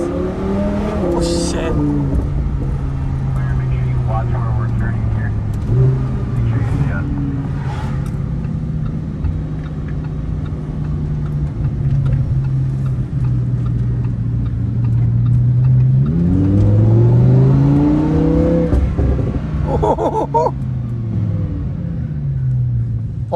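A supercar engine rumbling at idle then climbing through strong revs and dropping back, heard loud and close from inside the car, with occasional ticking and a voice speaking over it.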